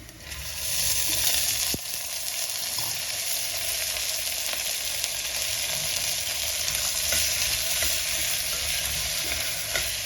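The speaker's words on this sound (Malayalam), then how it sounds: "ഇനി ഇതെല്ലാം ഒന്ന് വഴറ്റിയെടുക്കാം. സവോളയൊക്കെ ഒന്ന് വഴന്ന് വന്നിട്ട് ഇനി ഇതിലേക്ക് പീസ് ഇട്ട് കൊടുക്കാം." Onions and peas sauté in a pan with a constant, bright, close sizzle that holds evenly for ten seconds, with faint occasional scrapes of stirring and no talking.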